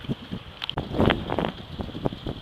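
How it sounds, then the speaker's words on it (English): Gusty wind buffets the microphone outdoors as someone sets off on a bike ride around town, a rough, fluttering rush with uneven swells and no talking. "Wind's kicking up pretty good."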